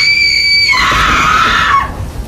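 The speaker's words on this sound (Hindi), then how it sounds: "यह चीख इतनी दर्द भरी थी कि हर सुनने वाले की रूह कांप जाती।" A woman's high, piercing scream in a Hindi village cartoon, one sustained shriek of about a second that bends downward, then cuts off, loud and alone.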